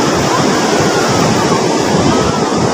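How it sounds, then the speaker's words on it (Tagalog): Strong ocean waves churned up by a typhoon roar continuously and loudly, a dense wash of surf with wind buffeting the microphone and no voices. "Grabe, lakas ng alon."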